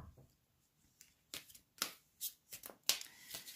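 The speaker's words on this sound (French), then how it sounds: "Alors je vais mélanger les cartes" Oracle cards are shuffled by hand, giving a quiet series of short riffling and slapping bursts close by with no talking.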